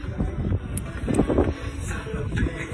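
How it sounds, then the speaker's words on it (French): Steady wind blows across an outdoor microphone as a continuous low rumble with gusty swells, fairly loud, with no talk. "On n'entend rien. On entend juste du vent."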